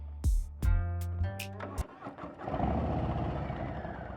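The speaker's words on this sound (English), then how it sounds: "That exhaust sounds really good." A 2023 Harley-Davidson Heritage motorcycle in custom cholo style barks through a few sharp throttle blips up close, then settles into a loping, rumbling exhaust idle.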